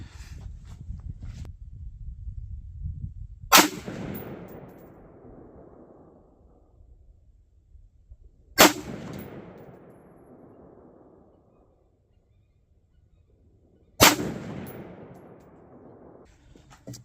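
A 5.56 rifle firing 77 grain Sierra Match King rounds at an outdoor range: three sharp, loud single shots spaced about five seconds apart, each trailing off in a long echoing decay.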